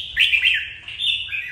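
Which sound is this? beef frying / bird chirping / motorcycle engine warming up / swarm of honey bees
bird chirping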